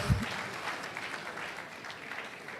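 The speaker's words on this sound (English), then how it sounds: "Is that how you clap for a professor?" An audience at a June 12 lecture gives a professor steady, moderately loud applause that continues evenly throughout, with a brief thump at the very start.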